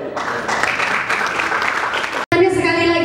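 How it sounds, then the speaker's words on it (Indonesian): Audience applause at a UD Trucks truck showcase event in Pontianak: dense, steady clapping from a crowd for about two seconds, then a brief cut before a tonal passage of music or voice. "Tepuk tangan dulu dong."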